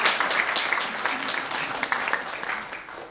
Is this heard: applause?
yes